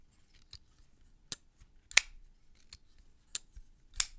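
Small folding knife snapping shut and being handled, producing a handful of sharp, crisp metallic clicks spaced irregularly against near silence, close to the microphone.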